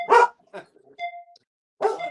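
Puppies bark in a few short, sharp yips spaced across a brief moment, close and fairly clear, with a ding-like tone between them.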